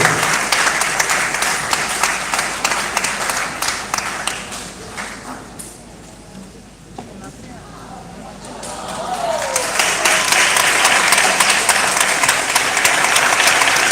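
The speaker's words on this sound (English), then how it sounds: "Let me hear you keep that applause going" Applause for graduates and an acting principal at a ceremony in Jamaica, dense clapping that dips into a quieter stretch with a voice over it, then swells again loud and full.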